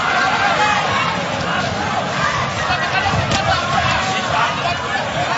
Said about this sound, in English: you know it's not a great performance because the crowd are quiet